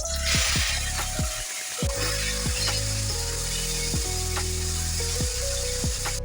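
Fish sizzles in hot oil mixed with spices in a wok, a steady loud frying hiss running throughout with tonal background music underneath.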